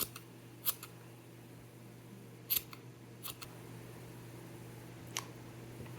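Scissors trimming crochet yarn tails on a scrap-yarn wind spinner, a few crisp separate snips spaced a second or two apart close by in a quiet room with a low steady hum behind.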